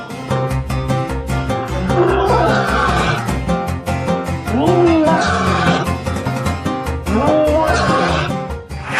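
Horses whinny in a children's counting programme, three shrill rising neighs spaced a few seconds apart over upbeat background music, clear and close.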